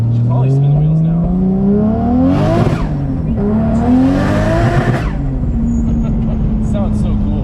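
A tuned car on a dyno revs hard in two sweeping climbs, its engine note rising with a harsh, raspy roar as the wheels spin, then settling into a steady idle drone while people talk over it.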